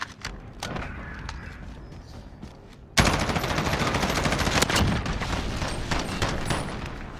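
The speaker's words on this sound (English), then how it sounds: "Nice shots there from Bossy." Rapid bursts of gunfire ring out in a competitive esports video game match at a charity gaming event, dense and loud, swelling sharply midway, with faint commentary underneath.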